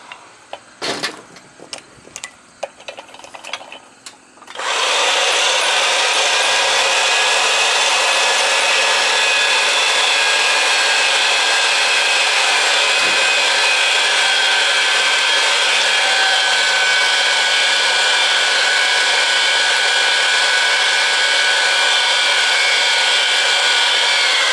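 A power pipe threader cuts threads onto a pipe for a gas conversion burner install, starting after a few knocks and then running as a steady, loud, continuous grinding whir to the end.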